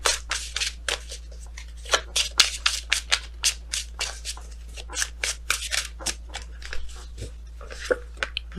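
Tarot cards being shuffled by hand, a quick irregular run of crisp riffling and slapping sounds close up, alone over a faint steady hum.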